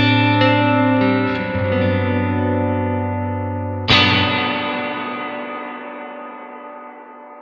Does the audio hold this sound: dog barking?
no